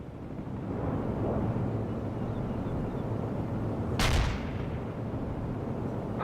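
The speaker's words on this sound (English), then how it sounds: "Artillery strike on the way." Artillery strike in the strategy game World in Conflict: a sudden heavy shell impact about two-thirds through, a sharp crack with rumbling tail, over a continuous low battlefield drone.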